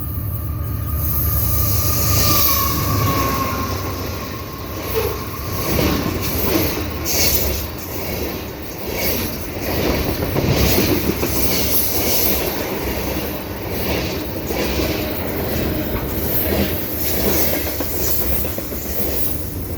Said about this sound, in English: Here comes the CP freight.